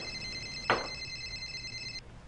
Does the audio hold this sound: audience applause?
no